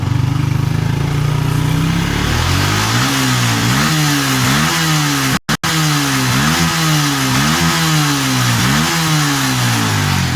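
A Yamaha Vixion motorcycle engine is revved repeatedly in short throttle blips, rising and falling in a steady rhythm over a loud, close idle, with one momentary dropout midway.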